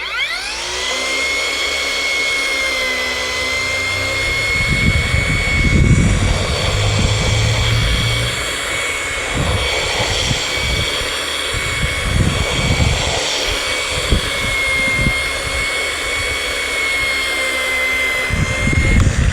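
A ONEVAN cordless grass trimmer fitted with a cutting disc runs over grass, giving a steady high electric-motor whine throughout, broken by irregular low thumps and rustling bursts as the disc strikes the vegetation.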